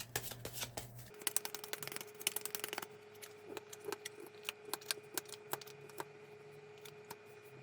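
Tarot cards, a Lenormand deck, being shuffled by hand, with a rapid dense flurry of riffling clicks for about three seconds, then slower, scattered card taps and slides, close and fairly quiet, with no talking.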